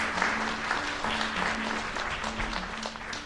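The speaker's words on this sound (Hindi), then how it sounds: "तो असलम अज़हर साहब के लिए भी आप भरपूर तालियाँ दें." An audience at a Pakistan Television Quetta Centre anniversary event applauds, a dense, steady clapping that fills the hall without pause.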